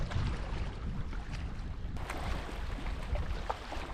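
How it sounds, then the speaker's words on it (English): Steady wind rushes and buffets outdoors near water where fish are jumping, a constant blustery roar with no voices. "It's windy as shit."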